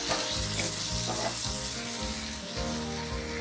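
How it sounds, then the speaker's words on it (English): Ivy gourd (tindora) softly cooking in a pan sizzles steadily while being stirred, with soft rhythmic scraping and shuffling strokes close by and no voices. "Give it a stir."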